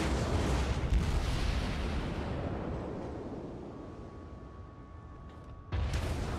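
An Atago heavy cruiser fires its main battery in the World of Warships naval game. One deep booming salvo rolls out and decays over several seconds, then a second sharp blast hits at the end, with no talk over it.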